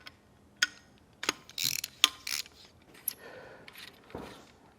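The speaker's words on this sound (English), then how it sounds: "all you have to do is loosen this single bolt right in the middle." Tightening hardware on a Gilles MUE2 motorcycle rearset is worked loose, giving a handful of sharp metallic ratchet clicks and clunks spread unevenly over a few seconds, close and fairly quiet, with no talking.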